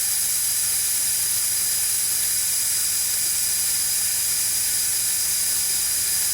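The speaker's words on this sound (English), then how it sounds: "let it suck until we get a steady stream of fuel coming out of the injection pump" A clear suction hose draws diesel fuel out of a VW TDI injection pump while priming it, producing a steady, loud, unbroken hiss with a low hum underneath, close up and without voices.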